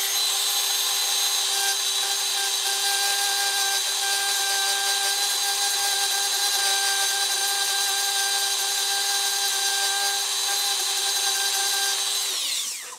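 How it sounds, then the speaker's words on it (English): A Dremel rotary tool cuts a trace on the circuit board of a Harman Kardon HK 725 preamplifier, giving a steady, loud high-pitched whine that runs unbroken for about twelve seconds before spinning down. "I'm just going to take a Dremel and I'm going to just cut the trace."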